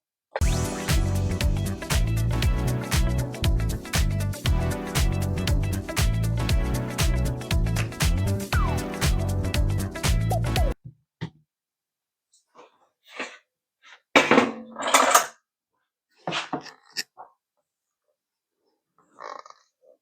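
An electric mixer beats icing for gingerbread cookies with a loud, fast, regular churning rhythm that runs about ten seconds, then stops, leaving quiet gaps broken by a few short scattered noises.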